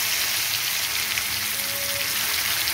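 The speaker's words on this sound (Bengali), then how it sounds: "আমি দিয়ে দিচ্ছি এর মধ্যে রসুন," Garlic frying in hot oil with cumin seeds already tempered, for a Bengali fish-and-egg bora curry: a dense, even, close sizzle with no pauses, loud and constant.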